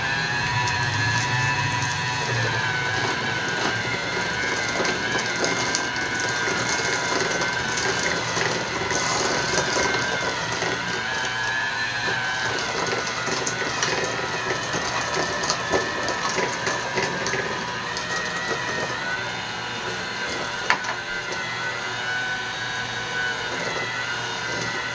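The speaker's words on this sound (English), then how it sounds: "Using an electric mixer," An electric mixer whirs steadily and loudly, beating pancake batter of flour, egg and milk in a bowl with a continuous motor hum and no pauses.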